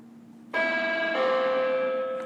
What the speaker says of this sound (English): Sorry for that bell again.